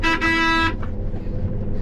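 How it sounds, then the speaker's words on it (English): A loud, close truck horn blares in two quick honks, the second held longer, followed by a low engine rumble, during corn harvest. "Give him a little honk."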